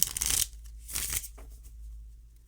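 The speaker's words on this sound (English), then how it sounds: "just when I start to shuffle" Tarot cards being shuffled close up in a few quick riffling bursts, papery and crisp, over a low steady hum, with no talking.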